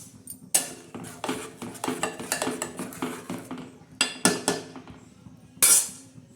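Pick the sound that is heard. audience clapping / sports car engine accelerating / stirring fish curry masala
stirring fish curry masala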